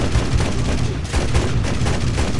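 Dense, continuous machine gun fire in the aerial combat game War Thunder, a loud, rapid rattle of bursts running without a break over a heavy low rumble.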